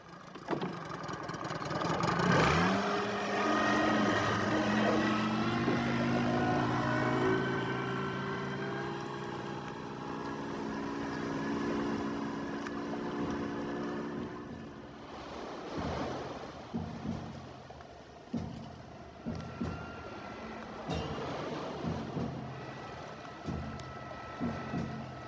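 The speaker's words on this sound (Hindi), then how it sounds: "बस यहाँ से हम अब इंजन बंद करेंगे। अब हम हाथों से बोट चलाएंगे।" A motorboat engine runs out on open sea, a steady loud drone mixed with surf and wind noise for most of the stretch, then easing off into choppier splashing and bumps toward the end.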